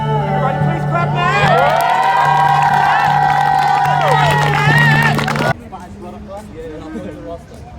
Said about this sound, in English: Everybody please clap now!